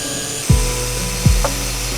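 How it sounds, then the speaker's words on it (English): A drill bit bores small holes in a Pikachu figure for a light-up display: a steady, close motor whine broken by two brief grinding bites as the bit cuts in. "I found a drill bit that is the same size as these, so we'll be able to drill them here and here"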